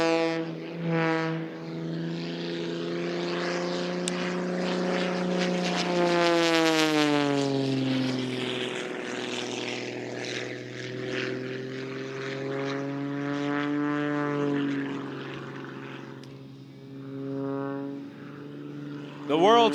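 A propeller aerobatic airplane performs at a Navy air show, its engine droning steadily and rising and falling in pitch as it slows for a tight inside loop and then accelerates, with a commentator talking over it throughout.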